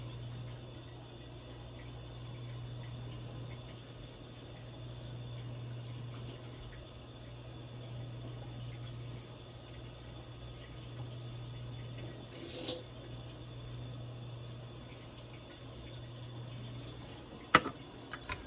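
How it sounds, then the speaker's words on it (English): A kitchen water tap runs in a steady faint stream with a low constant hum, heard from a short distance, broken near the end by a couple of sharp clinks. "You can hear my tap running."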